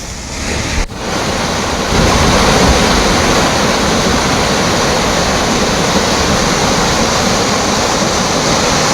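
Floodwater roars through the 52 raised gates of the Sammakka Sarakka barrage on the Godavari, releasing 71,000 cusecs downstream. A steady, loud, dense rush of water holds without a break, with a brief dip near the start and no voices.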